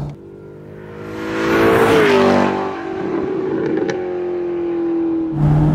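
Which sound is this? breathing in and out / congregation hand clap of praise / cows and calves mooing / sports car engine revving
sports car engine revving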